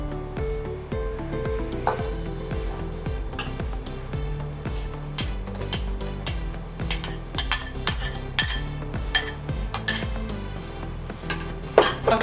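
Nigerian African salad with pomo (cow skin) being mixed, with a spoon clinking and scraping steadily against the bowl in a repeated rhythm for the whole stretch, close and clear, with no talk.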